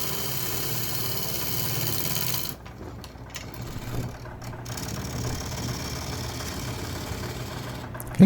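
A wood lathe turning a bowl, its motor giving a steady low drone with a rough, buzzing edge that thins out partway through, then runs on evenly until a short knock at the very end.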